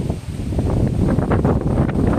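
Strong wind buffets the microphone at Lago di Oro in Calatagan, Batangas, a loud continuous rumbling roar with gusty surges.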